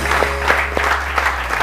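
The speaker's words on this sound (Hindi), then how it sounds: "बहुत सारी तालियां।" Studio audience applause on a televised morning show, a moderate patter of clapping with distinct bursts of hand claps, set over a steady low hum.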